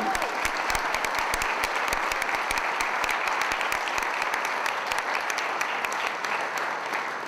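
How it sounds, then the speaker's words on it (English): Sustained audience applause fills a room at a South Florida PGA awards night, dense steady clapping from a large crowd lasting the whole stretch at an even level. "Let's hear a little applause for everybody."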